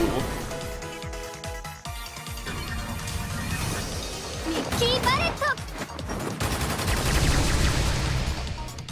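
Silent Bullet attack in the video game Digimon Story: Cyber Sleuth, a burst of sharp shot-like impacts and crashes layered over game music and effects, with someone talking over much of it.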